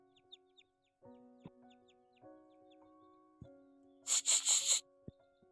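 Hens cluck in short bursts nearby, with a sudden flurry of flapping or scratching midway and a few sharp knocks around it.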